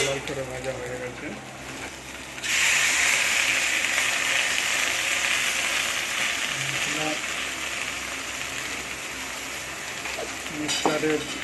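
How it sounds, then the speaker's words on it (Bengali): Fish frying in a pan of hot oil, with potato and papaya added alongside, hisses in a loud, steady broadband sizzle that holds from a few seconds in almost to the end, with faint clinks underneath. "লাল লাল করে ভাজা হয়ে গেছে।"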